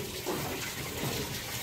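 Water pours steadily into a household tank, making a continuous broadband gush and splash that holds at a fairly loud, even level without pause.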